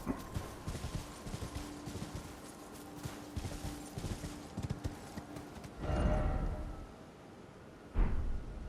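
Hooves clip-clop in a quick galloping rhythm as a horse runs in Elden Ring, with a few louder thuds and whooshes from a jump near the end.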